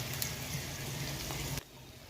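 Ginger-garlic paste with chilli, turmeric and cumin frying in hot oil over fried onions for khichuri, a steady close sizzle that cuts off abruptly after about a second and a half.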